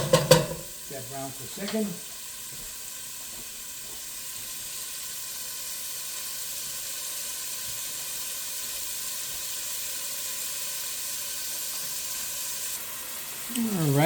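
Ground beef browns in a pan for a stew with a steady, even sizzle that holds for about twelve seconds. A voice speaks briefly at the start and again at the end.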